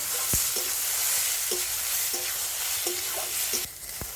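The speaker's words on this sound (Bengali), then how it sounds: "তো টমেটোটা কিন্তু একটু ভেজে নেব।" Chopped tomato frying in hot oil in a pan, a steady loud sizzle running throughout with a few sharp utensil taps against the pan scattered across it, quieting slightly near the end.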